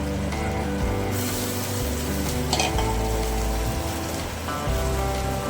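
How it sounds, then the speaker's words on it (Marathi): Fresh kavala wild leaves tossed into a hot pan and stirred, giving a continuous sizzling hiss with shifting rustles and scrapes throughout, fairly loud and close. "त्यामध्ये आपण हा पाला घालून घेऊया."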